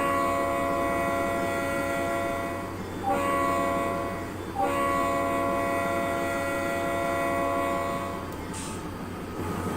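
A short freight train braking to a stop: a loud, steady metallic rumble with sustained squealing brake tones throughout, two brief clunks or jolts along the way, and a hiss of air near the end.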